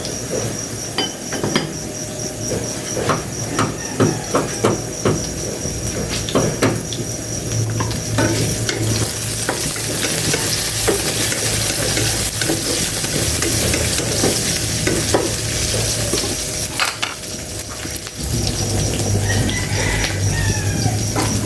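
Potatoes and onions stirred in a frying pan, a loud continuous sizzle with scraping and clattering from the spatula close by, and a brief pause near the end before the frying resumes.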